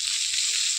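Cumin seeds hit hot oil for a jackfruit curry and give a bright, even, close sizzle that holds steady through a brief moment with no talk.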